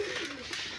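New white-eyed Giribaz tumbler pigeons on the ground give a brief, soft coo, faint and close.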